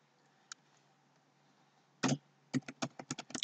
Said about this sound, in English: Now let's type quarters